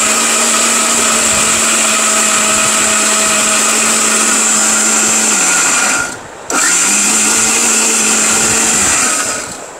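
Electric kitchen blender running continuously at high speed with a steady whine, briefly cutting out for a moment before spinning back up and continuing.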